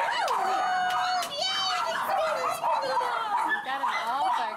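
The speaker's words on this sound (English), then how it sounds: "You got them all barking." Several shelter dogs bark, yip and whimper together in a busy chorus, loud and close, with excited human voices talking and cooing over them.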